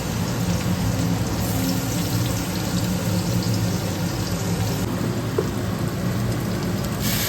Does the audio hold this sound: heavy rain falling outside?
yes